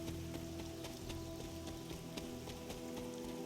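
Steady rain patters throughout a scene in the video game Marvel's Midnight Suns, soft and continuous, with a low tonal hum of background music underneath.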